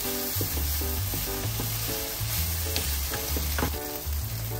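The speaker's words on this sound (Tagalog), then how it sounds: "Ang gagawin natin dito, ipa-fry ulit natin siya" Ground meat mixture frying again with tomato in a pan for tortang giniling, a steady loud sizzle with stirring scrapes and clinks over it, no talk.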